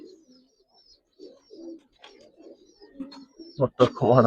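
Giribaz pigeons give soft, low coos in short separate bursts, close by and fairly quiet, and a voice breaks in loudly near the end.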